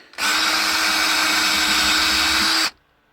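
A power drill with a small bit whirs steadily at high speed for about two and a half seconds, starting and stopping abruptly, close and loud, working on a Land Rover Discovery 2 gear stick.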